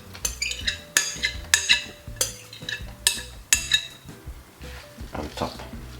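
Clattering scrapes and clinks of a utensil dragging the last of a healthy salad out of a bowl, a string of sharp knocks over a few seconds, close and fairly loud, without talk over it.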